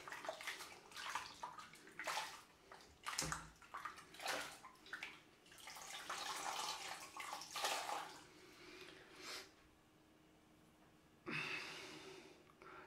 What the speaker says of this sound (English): I'm just going to wash this off this cloth